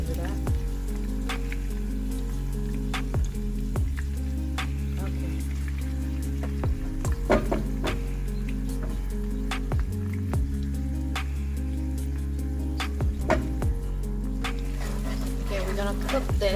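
Chili paste frying in hot oil for an Indonesian tempeh and chicken woku, a steady close sizzle and crackle with a low engine-like hum running underneath and brief clatters.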